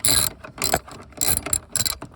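A ratchet driver fitted with a number 10 bit loosens screws in a Toyota Tacoma dash to free the stereo, giving several bursts of quick clicking, close and fairly loud, with short pauses between them and no talk.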